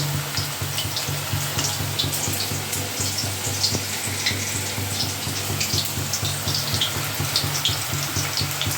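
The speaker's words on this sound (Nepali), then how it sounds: "तेलमा फ्राई हुँदैछ कोफ्ता" Chicken kofta frying in hot oil, five pieces in the pan, giving a steady, close sizzle and crackle that runs unbroken throughout with no talking.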